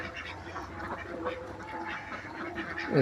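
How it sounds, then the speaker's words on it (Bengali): Confined laying ducks quack steadily in a busy chorus, many birds calling over one another at close range, with a louder burst near the end. "আমার হাঁসগুলা"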